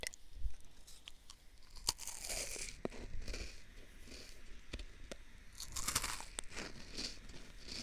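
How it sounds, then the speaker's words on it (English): Food crunches close to the mic in an ASMR session, crisp and irregular bites and chews with sharp crackles spread across several seconds, no talking. "But the crunch does sound good"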